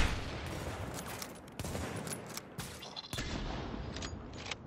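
Sustained bursts of automatic gunfire from the video game The Division, loud and continuous across the whole stretch with sharp individual shots punctuating the stream.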